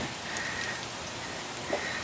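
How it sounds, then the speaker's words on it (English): Light rain begins to fall outdoors, a steady soft hiss of drops with no talk. "Just in time for it to start raining."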